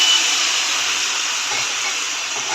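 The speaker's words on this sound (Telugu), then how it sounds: "కొద్దిగా లైట్గా వాటర్ వేసుకున్నామండి." Water splashed into a hot frying pan of spiced fry with coriander powder gives a loud, steady sizzling hiss that holds evenly from start to finish, close up and alone.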